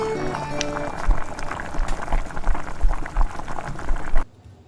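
Country chicken sambar bubbling in a pot, a steady busy boil with rolling gurgles close by, ending abruptly near the end.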